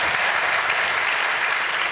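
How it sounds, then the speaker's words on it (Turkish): A television talent show audience in Turkey applauds during a 2012 final performance, a dense, continuous roar of clapping at an even level throughout. "Alkış, alkış."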